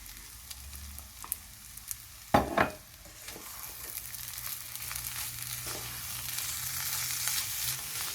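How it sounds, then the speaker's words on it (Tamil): Wheat egg kothu parotta being stirred with leftover gravy in a hot pan, soft continuous sizzling with scraping stir strokes and a sharp clatter of the utensil near the middle. "இதில் நீங்கள் நம்ம எடுத்து வச்சுருந்த மிச்ச கிரேவி போட்டு கலக்கிக்கோங்க."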